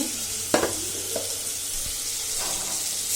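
Leafy greens go into a pan of frying fish head, a steady bright sizzle with a few distinct clanks and scrapes of stirring early on, then a continuous hiss.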